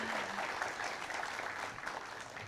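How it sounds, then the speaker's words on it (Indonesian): Live audience applauding steadily for Mas Adi MS at a studio TV show, a dense even patter of claps with no voices over it. "Boleh kita aplaus untuk Mas Adi MS"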